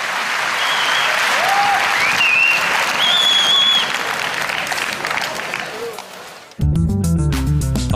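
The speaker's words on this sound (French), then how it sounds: "Et on peut vous applaudir, on vous applaudit." Audience applause at Japan Expo 2010, a sustained loud crowd clapping with a few whistles over it before it cuts off into music.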